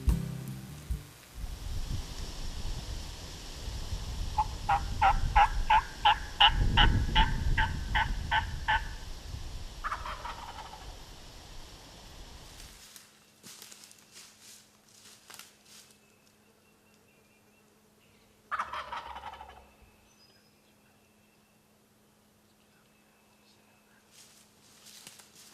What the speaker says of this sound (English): We heard some turkeys gobble, and it sounded like they was pretty close.